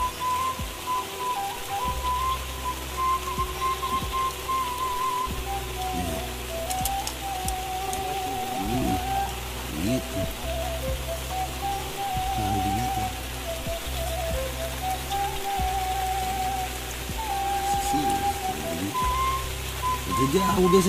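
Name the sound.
rain falling at a lake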